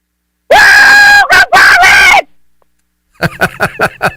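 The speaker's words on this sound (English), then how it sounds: "That's a nice scream there. That was good. Guttural." A caller on a football call-in show lets out a loud, guttural, sustained scream in several bursts, clipped and distorted as if over a phone line, followed by a quick run of shorter shouted bursts.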